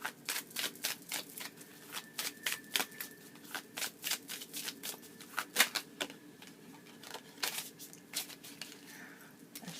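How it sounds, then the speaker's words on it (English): A deck of cards being shuffled up close, with rapid riffling bursts and soft snaps repeating over several seconds, no talking. "I'm going to shuffle and we're going to pull a card."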